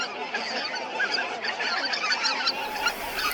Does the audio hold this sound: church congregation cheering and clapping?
no